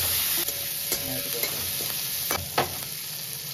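Onion, ginger, garlic and tomato frying together in a pan, a steady soft sizzle with a few scraping stirs and clatters of the spatula, close and alone with no talk.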